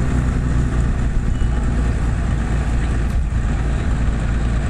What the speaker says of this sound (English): Here's an early tractor here, moving a hay wagon around.